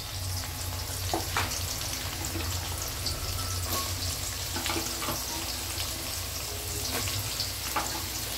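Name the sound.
vegetables sautéing in pan with onion, ginger, garlic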